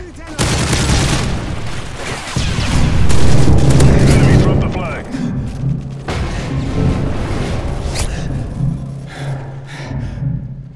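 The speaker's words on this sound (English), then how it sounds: "Friendly Predator missile inbound." Booming explosions from a Predator missile strike in Call of Duty: Modern Warfare 3, with heavy rumbling blasts and gunfire layered together, loud and sustained across the clip alongside game announcer voice lines.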